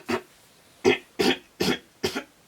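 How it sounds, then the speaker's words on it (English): A person coughs five times indoors, short separate bursts spaced about half a second apart, close and moderately loud with quiet pauses between them. "I needed to cough."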